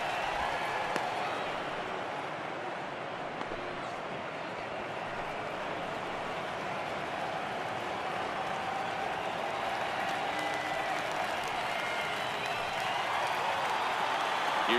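A large stadium crowd in a baseball video game cheers and applauds, a dense, continuous roar of clapping and voices that stays loud and even throughout, with no announcer talk.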